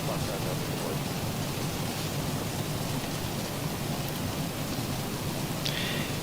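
Rain and thunder in the X-Plane 12 flight simulator flying a Zibo Mod airliner in a home cockpit, a dense constant rain hiss with low rumbling beneath, loud and unbroken throughout.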